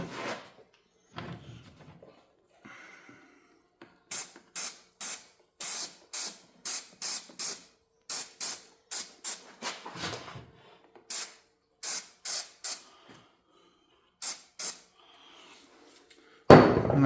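Short, sharp hisses of aerosol spray adhesive, the kind used for car headliners, come in a steady series of close bursts with brief quiet gaps between them during an interior color change on a 29-year-old car.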